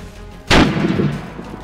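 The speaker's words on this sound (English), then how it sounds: "What is he shooting at?" A single loud gunshot from a player firing in DayZ, with a sudden sharp crack followed by a booming tail that fades away over about a second, with no talking.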